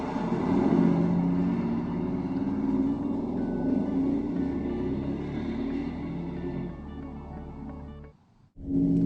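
Mercedes-Benz G63 engine under way, a steady deep rumble with road and cabin noise, held loud and continuous before briefly dropping away near the end.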